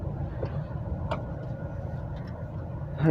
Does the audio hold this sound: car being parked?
yes